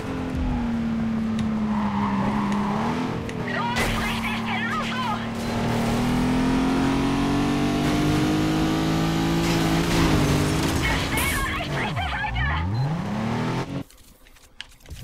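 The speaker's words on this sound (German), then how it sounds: "Ich gebe einfach nur Vollgas, aber der dreht nicht so hoch." A race car in Need for Speed Carbon is held at full throttle for a race start, its engine a loud, sustained drone that climbs and plateaus without revving very high, with a voice talking over it.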